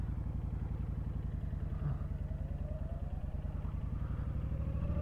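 A Honda Fury motorcycle riding on city streets, its engine giving a steady low, rapid pulsing thrum heard close and continuous throughout.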